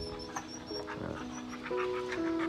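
A large H'Mong bobtail dog pants close by in short, steady breaths that run continuously with no talking over them.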